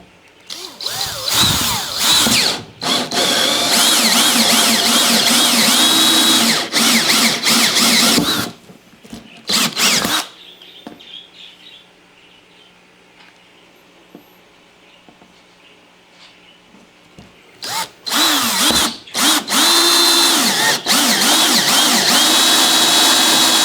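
A power drill spins a 2 1/8 inch hole saw through a plastic terrarium lid, loud whining bursts of cutting, stopping and restarting, with a long quiet pause in the middle before grinding resumes.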